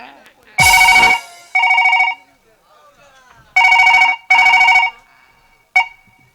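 A telephone rings during a staged comic phone-call scene, sounding in loud repeated bursts with short gaps between them, clear and close with no other sound over it.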